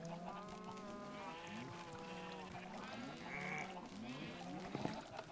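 Several sheep bleat repeatedly in a Minecraft survival game, the overlapping wavering calls staying moderately close over a steady background hum, with no talking.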